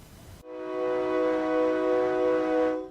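A steady, sustained train whistle blows loud and unbroken for a couple of seconds, its rich harmonic tone holding level before cutting off.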